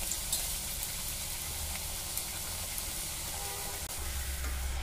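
Nippattu rice crackers deep-fry in hot oil, a steady, close sizzle and hiss with light bubbling running throughout.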